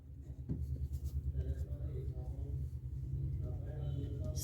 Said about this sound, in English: So I'm going to write here